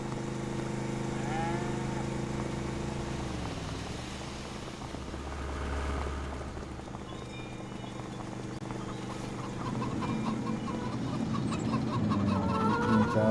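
Chickens cluck and call over a busy farmyard backdrop, with a low engine-like hum and scattered rustling throughout.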